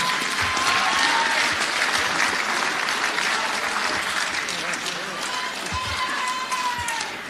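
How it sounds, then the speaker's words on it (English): A room full of guests at a 2017 football league awards night applauds the volunteers, with continuous, dense clapping that holds steady before easing slightly at the end. "Another big round of applause for the volunteers in 2017."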